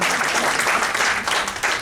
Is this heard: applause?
yes